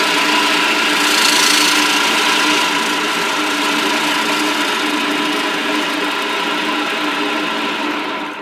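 A blanching machine with spinning emery paper rollers runs steadily for several seconds, a loud, even mechanical drone with a constant hum that eases off slightly at the end, no talking.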